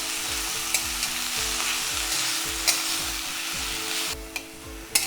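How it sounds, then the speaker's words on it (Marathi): Fenugreek (methi) leaves sauté in a pan with a constant bright sizzle, punctuated by repeated soft scraping strokes of a spatula stirring the greens, close and unaccompanied by speech. "आता याला थोडंसं परतून घेऊयात"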